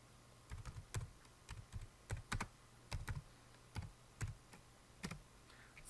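Keystrokes tap on a computer keyboard in short irregular bursts of clicks, near and clear, with brief pauses between word-length runs and no talking.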